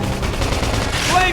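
Rapid gunfire from combat in the video game Xenoblade Chronicles X, a dense, continuous burst of shots mixed with game effects, loud and close throughout.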